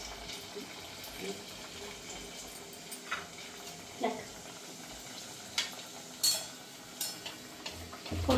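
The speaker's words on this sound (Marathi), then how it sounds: "आता तळताना हळूच टाकायचं गरम तेल आहे" Stuffed kachori frying in hot oil, with a soft continuous bubbling sizzle and occasional clinks and splashes as more are slipped in one by one.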